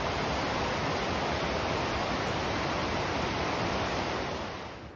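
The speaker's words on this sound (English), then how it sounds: "Let's go get a better look at that waterfall" A loud, steady rush of a waterfall at Twin Lakes, Mammoth, California fills the clip without pause, dense and broadband, tapering slightly at the end.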